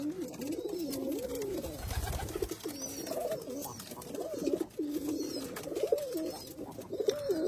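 Rajshahi Girebaz pigeons coo in repeated throaty, rolling phrases, close and steady throughout, over faint background noise.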